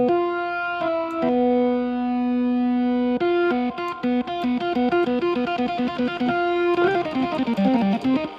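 A distorted Hammond B-3 organ tone, played through a high-gain British lead guitar amp, plays sustained chords, then shifts into a busy run of shorter repeated notes, loud and saturated with no talking.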